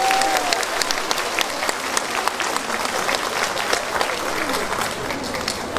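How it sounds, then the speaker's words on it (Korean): Sustained applause from a large audience fills a civic anniversary ceremony for Yeongdong county residents' day, a dense, steady wash of many hands clapping at even loudness throughout, with a faint voice briefly audible near the start. "여기 참석하신 여러분 모두 큰 박수 보내주시기 바랍니다"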